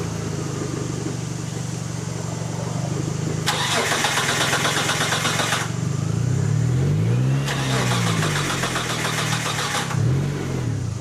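Mitsubishi 3000GT engine cranking with two bursts of starter whine and catching, revving unevenly and bogging down as if short on charge, loud and close.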